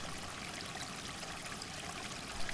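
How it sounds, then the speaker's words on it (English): Creek water trickles steadily across the snowy countryside on a winter day, a soft, even wash of flowing water with no voices. "Dog Pound Creek trickling along"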